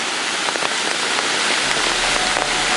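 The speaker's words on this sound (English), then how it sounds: "If this rain doesn't stop soon, man, this whole place is gonna be underwater." Heavy rain pours steadily during a flood in Thailand among flooded houses, a dense, continuous hiss drumming on surfaces close by, with no voices.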